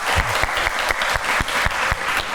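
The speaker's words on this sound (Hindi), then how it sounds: "सो बहुत सारी तालियां दोनों गेस्ट के लिए।" Studio audience applauding the two guests on a talk show, dense steady clapping from many hands with a few louder individual claps standing out, close and continuous.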